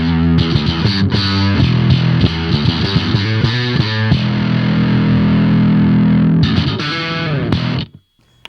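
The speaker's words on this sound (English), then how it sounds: "we have the DS1 running in loop A, and we have a clean signal in loop B." An electric guitar plays through a Boss DS-1 distortion pedal in one effects loop, blended with a clean signal in a second loop, giving loud, saturated chords and notes that ring out before cutting off at the end.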